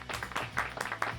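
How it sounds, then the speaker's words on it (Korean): A studio crew gives a short, lively burst of clapping and cheering on a Korean defense talk show, with uneven loud claps packed into just over a second. "박수!"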